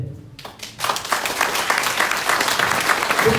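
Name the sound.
audience applause at a meeting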